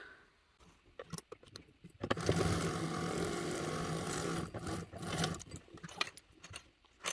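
A sewing machine stitches a curved top seam with a quarter-inch allowance, a steady mechanical whir running for about three seconds in the middle, with quieter handling noises before and after.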